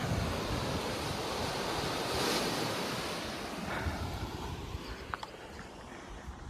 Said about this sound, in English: And now it connects to the ocean.